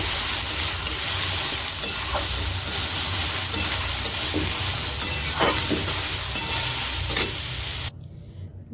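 Raw green peas fry in hot oil for a Bengali ghugni, a steady close sizzle with stirring scrapes and small pops throughout, cutting off abruptly near the end; no talking.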